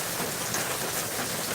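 Steady outdoor rain falling and pattering on surfaces, a dense continuous hiss at even loudness with no voices.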